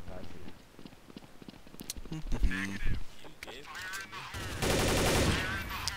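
Gunfire rattles in a first-person shooter video game, with sharp shots and bursts mixed into busy game sounds that grow denser and louder toward the end, and no talking.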